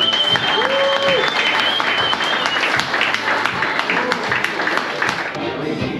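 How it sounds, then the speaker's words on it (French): Audience applause fills a golf tournament prize ceremony at the Heritage World Cup national final at Valescure golf course: steady, dense clapping from a crowd throughout, with a brief voice heard near the start. "Applaudissements s'il vous plaît"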